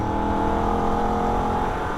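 A Holden VF Ute engine roars at full throttle in third gear on the Nürburgring, a loud, sustained, steady drone heard close from inside the car.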